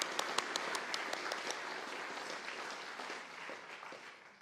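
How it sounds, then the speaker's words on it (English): A crowd at a startup showcase applauding steadily, a dense wash of many hands clapping that stays fairly even and tapers slightly toward the end. "I'm going to do a round of applause for you"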